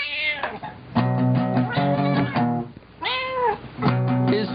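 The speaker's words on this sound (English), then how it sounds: "I didn't know cats could sing like that." Tigger the cat singing in a string of drawn-out, tuneful meows with rising and falling pitch, loud and near, separated by brief pauses.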